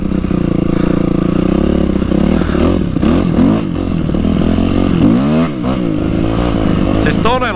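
A 2004 carbureted Suzuki RM-Z 250 motocross bike revs loud and close, its engine rising and falling through gear changes as it is ridden, with someone talking over it.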